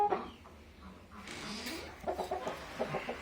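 Hens clucking inside a chicken coop, soft and intermittent, with scattered small calls and rustling at a moderate distance.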